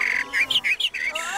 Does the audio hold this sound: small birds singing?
yes